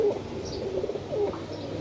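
Pigeons cooing close by, with several soft low coos in a row and faint hiss in the background.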